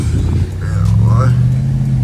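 Cars roll past on a flooded Miami street, a near, loud engine rumble swelling as a vehicle passes, with a faint hiss of water spray above it.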